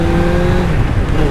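A Suzuki Katana motorcycle with a Work House Customs build accelerates hard up close, its engine a loud, steady, rising drone through the gears.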